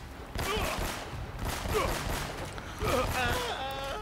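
Gunfire from the video game Uncharted: Drake's Fortune crackles in several bursts, clustered rapid shots over game sound, with no speech.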